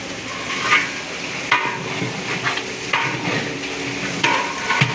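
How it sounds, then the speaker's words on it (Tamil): A spoon stirs curry leaves in a large pot for tomato rice, with scraping and clanking strikes recurring every second or so over a low sizzling background, no talk. "கறிவேப்பிலையை போட்டுக்கலாங்க அவ்வளோதாங்க போட்டு நல்லா திருப்பி கொடுக்கலாங்க"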